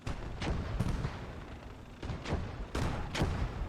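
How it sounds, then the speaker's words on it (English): An Achilles tank destroyer fires HE shells in a Gates of Hell Eastern Front battle. Several distant, muffled booms come in irregular bursts over a low rumble. "I think the Achilles here has actually changed targets as well. I think he's firing HE now."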